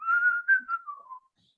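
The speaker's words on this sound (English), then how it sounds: "Those who can't sing whistle the tune." A single clear whistle carries a short melodic phrase, gliding between notes for about a second before stopping.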